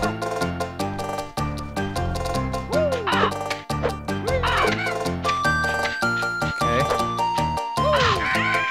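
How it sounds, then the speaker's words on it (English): Harsh cawing bird calls from the game Banjo-Kazooie: Jiggies of Time, Zora's Domain level, repeat in quick bursts over a busy, layered backdrop of tonal sounds, loud and close, with no voices. "I hear birds."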